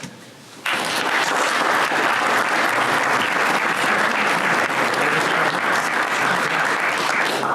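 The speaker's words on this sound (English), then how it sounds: "A round of applause." Sustained audience applause fills a school commitment ceremony for athletes, loud and dense after a quiet opening moment, a steady wash of many hands clapping without break.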